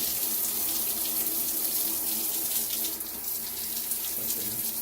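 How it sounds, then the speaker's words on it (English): A HOPOPRO six-function handheld shower head sprays water in a continuous close hiss that shifts slightly in texture as the setting changes, with no one speaking. "I'm gonna let it run and show you the different styles of settings for the shower"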